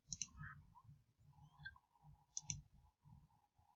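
A computer mouse clicks at a desk during CAD work in Autodesk Inventor. A few crisp, quiet clicks come singly and in pairs, with faint low room rumble between them.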